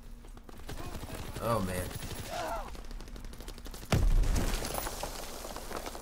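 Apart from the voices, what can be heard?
gunfire in the video game Call of Duty WW2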